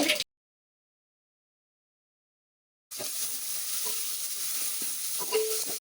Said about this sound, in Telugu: తరిగి పెట్టుకున్న ఉల్లిపాయలు వేసుకోవాలి.